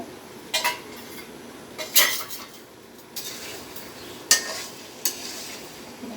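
A spatula scrapes and clinks intermittently in a pan of mango pickle with sugar and ground panch phoron, over a faint background sizzle with no talking.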